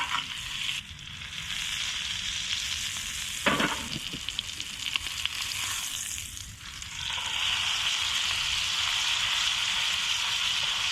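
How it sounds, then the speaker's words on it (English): A steak sizzles loudly in a pan while being basted with butter at a springtime boat camp, a dense steady hiss with brief clatters of the spoon and pan that swells louder toward the end. "And we're just gonna baste. This is a very important part in making a steak, is basting."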